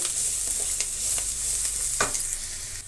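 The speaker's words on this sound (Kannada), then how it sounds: "ಶುಂಠಿ ಬೆಳ್ಳುಳ್ಳಿ ಕೂಡ ಸ್ವಲ್ಪ ಫ್ರೈ ಆಗಬೇಕು ಈರುಳ್ಳಿ ಜೊತೆ" Ginger garlic paste frying with onions for onion gobi manchurian fried rice, a steady close sizzle with a few soft spatula scrapes and one firmer stir, no voices.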